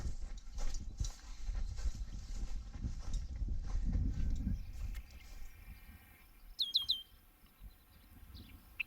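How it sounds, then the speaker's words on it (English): A red-winged blackbird calls by a creek, giving a few brief, clear, fairly near chirps late in the passage. Rustling and low rumbling outdoor noise fill the stretch before the calls. "Red-winged blackbird, beautiful."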